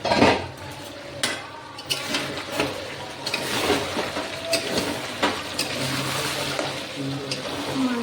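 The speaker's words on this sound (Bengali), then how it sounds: "এবার ঢাকা দিয়ে দেব ঢাকনাটা তুলে দেখব মাংসটা কেমন হলো" A metal lid clanks as it comes off a pot of cooking duck meat, followed by scattered clinks and scraping of utensils against the pot over a soft simmer, close and fairly loud.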